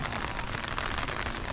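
Steady rain falls in a dense, even hiss at Butchart Gardens, continuous and fairly close with no voices.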